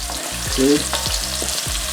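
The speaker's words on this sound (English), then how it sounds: "stirring up a little" Vegetables for Jamaican brown stew fish, including thick-julienned carrots, sizzle loudly in a pan while being stirred, with rhythmic scraping strokes over a steady close frying hiss.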